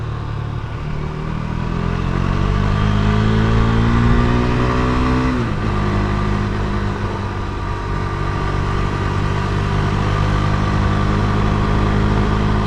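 Steady, loud engine drone from a Yamaha XS650 motorcycle being ridden, the pitch climbing, then dropping sharply as if shifting gear, before settling into an even cruise with no talking.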